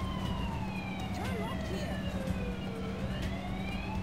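Ambulance siren in an arcade driving game styled after Crazy Taxi, its wailing pitch sweeps sliding up and down over a steady engine drone and game noise, with a voice talking underneath.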